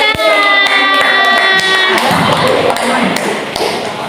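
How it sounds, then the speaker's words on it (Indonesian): A classroom group claps in short scattered bursts, close and fairly loud, with single sharp taps at first before the clapping thickens, over a sustained tone and some background murmur. "Tepuk tangan."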